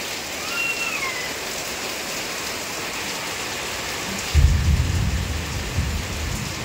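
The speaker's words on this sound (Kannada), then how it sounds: "ದೊಡ್ಡ ಸಿಡಿಲು ಬರ್ತದೆ ಈಗ" Heavy monsoon rain hisses steadily over a village, then a loud, deep rumble of thunder bursts in and rolls on for a couple of seconds, with no speech.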